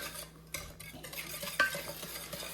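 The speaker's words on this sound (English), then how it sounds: "And then we'll mix all of this right here together. Whisk it up real good." Chocolate filling for a southern chocolate pie whisked in a bowl: quiet, uneven scraping and tapping strokes of the whisk against the bowl, close up, with no talking.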